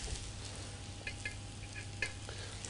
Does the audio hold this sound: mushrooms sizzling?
yes